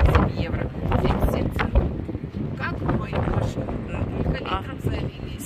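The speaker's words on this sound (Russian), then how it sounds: "держись, а то ветер свалит" Strong wind buffets the microphone with rough, rumbling gusts while a person talks in the foreground.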